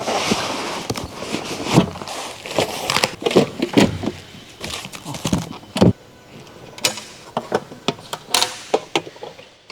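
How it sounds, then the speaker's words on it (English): Heavy-duty metric 6-point impact sockets clatter and clink as the set is unboxed, with repeated sharp metallic knocks, rustling packaging and handling noises close up, no speech. "we are unboxing and demonstrating a heavy-duty impact socket set"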